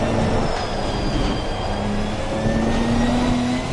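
A Ginetta GT4 race car from Assetto Corsa Competizione runs down the straight, its engine a steady loud roar with rising gear whine and a shift partway through, continuous for a few seconds with no talk.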